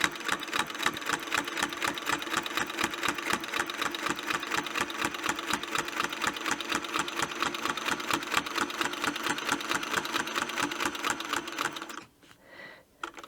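A vintage Singer 301 straight-stitch sewing machine runs steadily, its rapid, even mechanical clatter of stitching carrying on for several seconds before stopping abruptly near the end.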